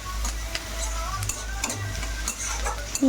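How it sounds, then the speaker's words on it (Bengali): Tomato goes into lightly browned onions in a pan over a medium flame and is stirred, with soft scraping and clicking strokes over a low frying hiss. "তারপরে টমেটোটা দিয়ে দিতে পারো"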